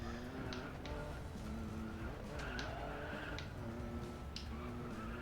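Tires squeal and skid as a car drifts in the Racing Master racing video game, with a steady engine drone running through and repeated screeching bursts rising and falling over several seconds.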